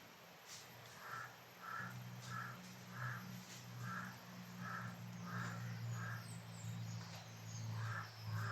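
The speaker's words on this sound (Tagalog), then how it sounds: "Yung mga uwak guys" Crows caw in a repeated series of harsh calls, roughly one or two per second, over a low steady hum and faint insect chirring.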